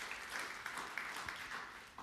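Church congregation applauding after a sermon line, a steady, fairly faint wash of many hands clapping that fills the moment evenly.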